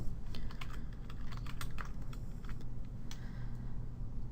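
A computer keyboard being typed on to enter a search term, a steady run of quick light key clicks, close and fairly faint over a low background hum.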